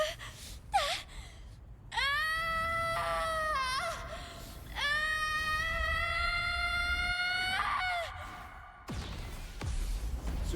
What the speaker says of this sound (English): Super convincing scream